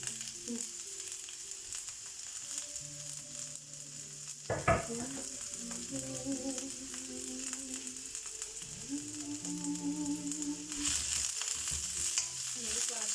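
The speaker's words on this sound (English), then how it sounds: "Just going to lightly stir fry so that you get your vegetables are cooked" Vegetables stir fry in a hot pan with olive oil, a continuous close sizzle with scraping stirs and a sharp clatter early on, tonal hums and rattles running underneath, growing brighter toward the end; no talk.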